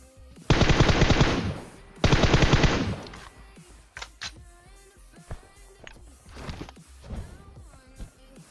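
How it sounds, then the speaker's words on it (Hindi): M4 rifle fire in a shooting video game: two loud sustained automatic bursts close by, followed by scattered quieter shots, clicks and movement sounds. "पहले मैं 2-3 बार M4 से प्री फायर मारता हूँ"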